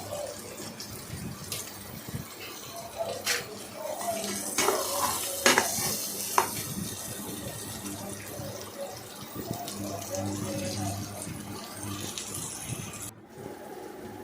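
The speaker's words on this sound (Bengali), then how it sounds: "এবার পেঁয়াজ কুচিগুলোকে ভালো করে ভেজে নিলাম।" Chopped onions fry in a pan while cooking mutton biryani, a steady sizzle with clinks of utensils and stirring, moderately loud and continuous throughout.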